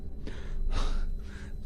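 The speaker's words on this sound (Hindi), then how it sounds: "हांफते हुए जमीन पर गिर पड़े" Panting gasps in a horror cartoon: two or three sharp, breathy inhalations and exhales close up, the middle one loudest, with a low background rumble.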